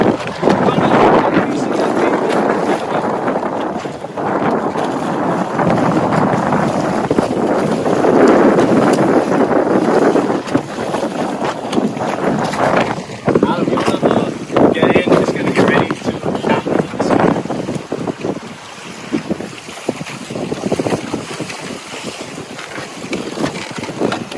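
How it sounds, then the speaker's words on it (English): An outrigger wa'a sailing canoe moves under sail off Hawaii, with heavy wind buffeting, water rushing against the hull and a person talking over the loud, steady noise. "I steer the canoe off of the wind, I fill my sail, and now I can kind of get some forward movement"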